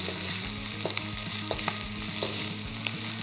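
An egg cracked into a hot oiled pan sizzles beside pork slices, a steady close frying hiss with a few sharp pops and scrapes of a utensil, no talking.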